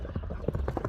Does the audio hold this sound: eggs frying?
no